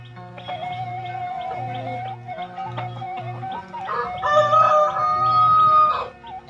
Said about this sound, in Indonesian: Tuh, ayam jago.